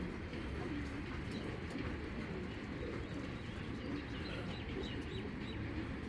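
Silver ice racing pigeons coo softly in a steady, low, rolling murmur that blends into a constant background with no talk.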